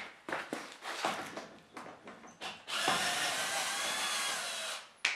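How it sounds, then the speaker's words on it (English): Several short bursts of clicking and rattling from a ratchet adapter, then a cheap power drill whirs loudly for a couple of seconds before stopping, close to the microphone. "I have a drill here"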